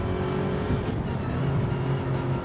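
Race car engine in URL Ultimate Racing League, a racing video game on the Tokyo South track, droning steadily and loudly with shifting revs as the car climbs through the gears, with no talk over it.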